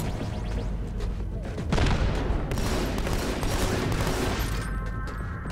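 Gunfire from Halo 2 Anniversary, a capture-the-flag match on the Ascension map, rattling as dense, continuous shots with loud bursts and booms, close and unbroken for several seconds.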